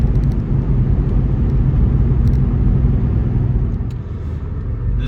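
A stock-exhaust 1993 Porsche 964 Carrera Cabriolet drives along, its engine a steady, loud low rumble mixed with road and wind noise, with a brief dip near the end and no voices.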